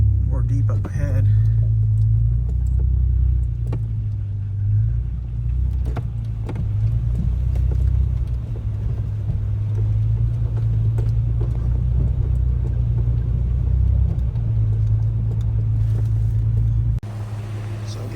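Vehicle in four-wheel drive rumbles along a wet, muddy track, a steady low engine drone heard from inside the cabin with occasional knocks and shifts in pitch.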